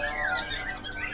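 Black Sambet songbird giving a quick, bright twittering call, a short burst of high chirps heard close.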